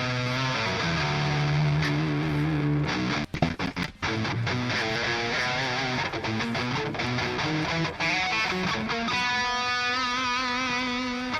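Distorted electric guitar plays a sustained lead line through an amp simulator, singing notes with bends and a busier flurry mid-phrase, loud and continuous with no voices.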